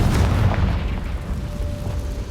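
A Confringo fire spell goes off in Hogwarts Legacy as a deep, rumbling blast that fills the clip with sustained low boom and a slowly fading tail.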